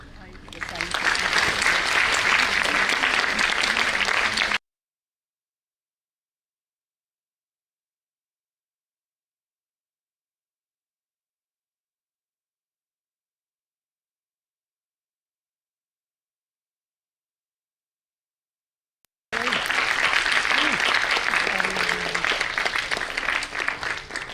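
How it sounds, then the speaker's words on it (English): Audience applause at the CBSE National Science Exhibition for dignitaries, loud sustained clapping from a large crowd, cut off by a long silence before another long burst of clapping. "can we please have a huge round of applause for our dignitaries from Cbse?"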